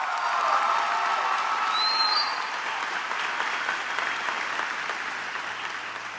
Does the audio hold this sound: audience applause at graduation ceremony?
yes